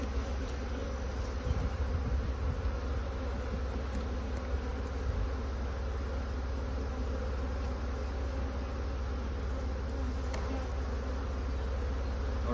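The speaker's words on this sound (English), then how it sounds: "And the other side, covered in bees, which is awesome." Honey bees on a hive frame in a nuc moved into an 8-frame hive, a dense continuous buzzing drone, close and steady throughout with no talk.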